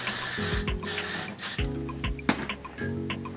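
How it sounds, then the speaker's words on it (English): Got2b hairspray sprays in several short, close hissing bursts, three or four separate puffs amid soft handling noises and faint mechanical tones, no talking. "take a little bit of Got2b and spray it."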